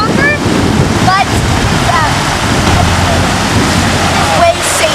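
Strong river current rushes over rocks in a continuous broadband wash, loud and close, with wind buffeting the microphone and a few high bird chirps above.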